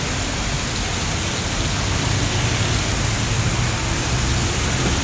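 Heavy rain pours down in a steady, loud, unbroken roar during bad weather, with no voices over it.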